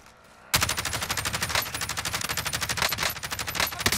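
Rapid automatic gunfire in the video game Warzone bursts in after a brief quiet moment, then rattles on as a fast, loud, evenly pulsing stream of shots up close.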